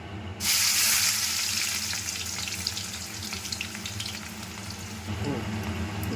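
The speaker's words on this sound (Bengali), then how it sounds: "এবারে তেলটা গরম হয়ে এসছে, এতে দিয়ে দেব পেঁয়াজ কুচি।" Chopped onion dropped into hot mustard oil in a heated wok, a sudden loud sizzle that bursts in and settles into steady frying crackle.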